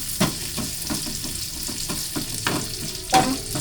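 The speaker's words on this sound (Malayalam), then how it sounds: "അപ്പോൾ അത് നമുക്ക് ഇതിനകത്തോട്ട് ഇടാം. അപ്പോൾ ആ തേങ്ങ ഒന്ന് മൂപ്പിച്ചെടുക്കാം." Chopped coconut fries in ghee in a pan for kadala payasam, giving a close, steady sizzle with rhythmic stirring scrapes and no voices.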